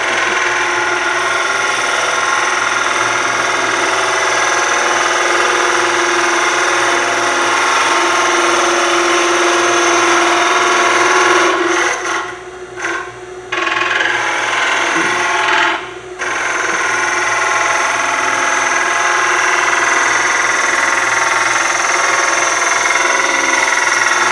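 A bowl gouge cuts wood on a lathe, giving a loud continuous grinding whir over a low motor hum with a few brief breaks in the cut midway.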